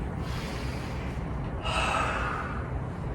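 A person takes a deep breath, a soft audible inhale and sigh-like exhale close by, heard alone against a faint low background hum.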